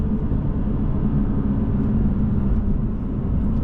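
BMW engine and exhaust while downshifting to second gear, heard as a loud, steady low rumbling drone that holds an even level throughout, with no voices.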